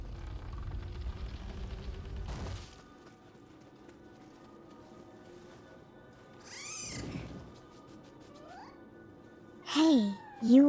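A cat meows near the end of a quiet indoor stretch, two or three short, rising cries in quick succession after a low rumble fades and a faint whine passes midway.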